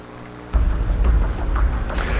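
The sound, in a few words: rain during Tropical Storm Cristobal in Louisiana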